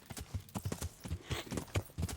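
Horse hooves clip-clop in a steady, uneven gallop rhythm in the medieval game Kingdom Come: Deliverance, fairly close and clear, with faint game ambience and no talking.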